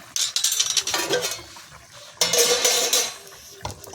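A pot lid opened and fish slid into boiling curry, heard as two bursts of metallic clatter and bubbling sizzle, close and loud with a quiet pause between them.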